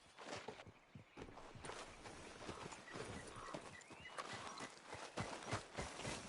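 Steady clip-clop of a horse's hooves walking in Red Dead Redemption 2, evenly paced and moderately close, running alone under a soft ambient outdoor bed.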